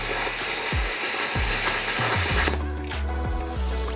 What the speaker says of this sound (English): The Cutmaster is able to deliver 70 amps of cutting power and slice through 1-inch material no problem